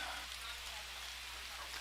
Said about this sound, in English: hopefully this is just a passing shower